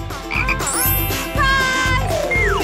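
Cartoonish frog croaks repeat in a bouncy rhythm, loud and close, mixed with chiming musical tones and sliding whistles in a French children's challenge show.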